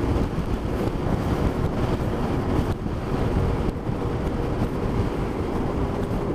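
An outdoor breeze buffets the microphone in a constant roaring gust, with a few sharper bumps, loud and unbroken throughout.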